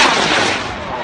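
A black-powder rocket launches with a loud, dense rushing roar that stays close and fades slightly toward the end.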